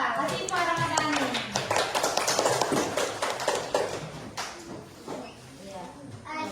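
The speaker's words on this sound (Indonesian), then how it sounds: "Tepuk tangan untuk Anissa." Children clap their hands in a classroom, a dense run of rapid claps that thins out toward the end, with children's and adult voices talking over it.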